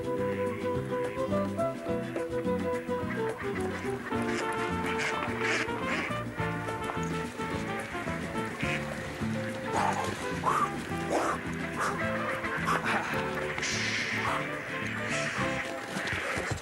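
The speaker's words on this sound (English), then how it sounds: "By weaving in and out, Tolly lures the ducks further up the tunnel." Ducks quack in a busy, overlapping chorus while being herded up a tunnel, with many birds calling continuously, mixed with background music, bustle and occasional voices.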